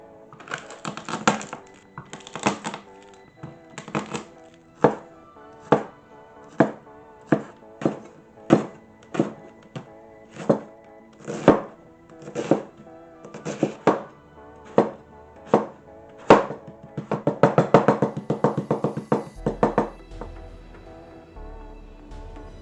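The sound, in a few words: chopping leek, potato, onion, garlic and thyme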